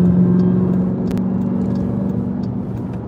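A car engine runs steadily close by, a continuous mid-pitched hum and whir that eases slightly after the first second, with no voices over it.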